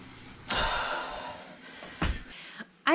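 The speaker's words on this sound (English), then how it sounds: "you can hear me breathing like a freight train" Heavy, labored breathing after a 20-minute interval workout, with a few loud gasping breaths and exhales close to the microphone and quieter panting between them.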